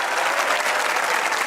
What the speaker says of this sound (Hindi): अगर आप लोग दूसरों को खुश देखना चाहते हैं तो तालियां बजाइए